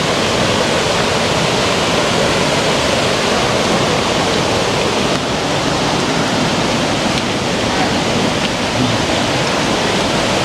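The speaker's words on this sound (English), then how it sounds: "So you can hear the river from here." Close and loud, a flowing river gives a constant dense wash of rushing water, unbroken for about ten seconds, with nobody speaking.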